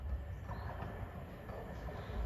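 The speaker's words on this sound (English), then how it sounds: "So here comes our train, guys. It's a Southwestern Railway Arterio" A South Western Railway Arterio train arrives with a steady low rumble and rolling wheel noise that holds fairly even at moderate distance.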